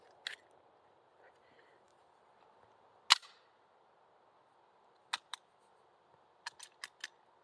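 Pistol shots at an outdoor shooting range, heard fairly distant and sharp: one early crack, a louder single shot, a quick pair, then a rapid string of four, over a faint background hum.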